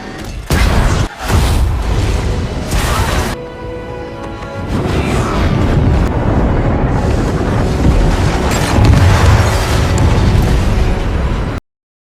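Loud booming blasts and bursts of fire ring out in quick succession, with a rumbling, sustained roar of battle throughout.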